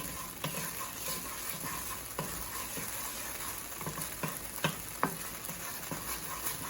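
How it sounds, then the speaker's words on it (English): Garlic sizzles steadily in a hot pan while a utensil stirs it, with irregular scraping clicks over the continuous frying hiss, close and moderately loud, as part of cooking pad thai; no talking. "Add some garlic to the mix."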